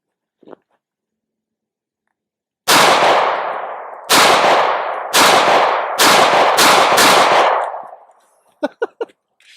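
Matrix Arms MX19 aluminum-frame pistol firing several sharp, loud close shots in an irregular string with ringing decay, followed by a few faint clicks afterward.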